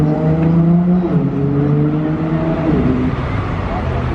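A Ferrari LaFerrari supercar drives past loudly and close, its engine tone holding high then dropping in pitch as it goes by, with a continuous whirring roar through the whole pass.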